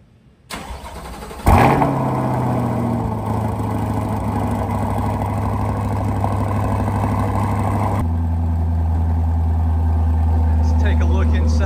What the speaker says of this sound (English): this is a cold start with an AWE exhaust and the new Eventuri air intake